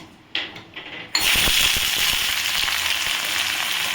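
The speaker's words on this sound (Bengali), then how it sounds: "তেলটা আমার গরম হয়ে গেছে আমি এর মধ্যে দিয়ে দিচ্ছি পেঁয়াজ" Onions dropped into hot oil in a pan burst into a loud, steady frying sizzle after a couple of brief splashes, the crackle holding close and constant throughout.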